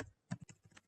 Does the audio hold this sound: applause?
no